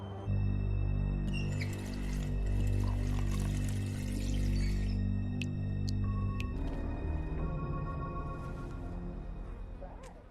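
Water pours steadily from a container in The Wolf Among Us video game, a close, continuous rush that thins into trickles and drips over a low hum, with no talking.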